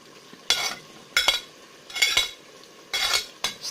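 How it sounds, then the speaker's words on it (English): Bay leaf, a stock cube and grated carrots going into frying sauce, heard as five short bursts of stirring and scraping clatter at a steady pace, with faint sizzling between them. "While the sauce is frying, I'll add bay leaf, stock cube, then the grated carrots."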